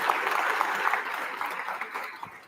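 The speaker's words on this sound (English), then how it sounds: "Can I get a round of applause for the council members?" An audience claps for council members at a community meeting, a short burst of moderate applause that tapers off over a couple of seconds.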